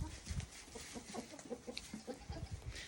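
Orpington hens on a small homestead cluck and murmur in a low, steady chatter, several birds close by under a constant background hum.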